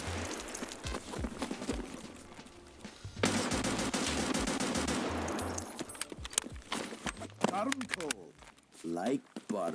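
AK-545 short variant firing in Escape From Tarkov, a sustained loud burst of automatic fire in the middle, with shorter bursts around it and someone speaking over it.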